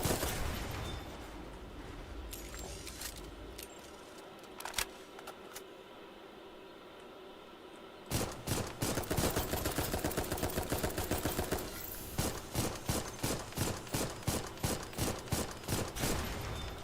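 Enemy gunfire in an Armored Core mech battle rattles in quick bursts, first a dense continuous barrage, then a pause, then a long run of rapid evenly spaced loud shots.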